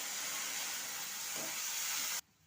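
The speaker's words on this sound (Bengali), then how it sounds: "এই যে এখন জল দিয়ে দিচ্ছি" Water poured into a hot pan of salted flat beans (shim) sets off a loud, steady hiss that holds for about two seconds, then cuts off abruptly.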